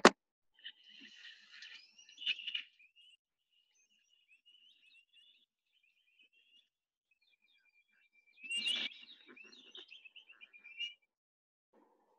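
A recorded call of a cuckoo that parasitises Retz's helmet shrike, from a birding tour of Kruger National Park, South Africa: clear, high whistled phrases in two bursts separated by a quiet gap, heard alone with no talk.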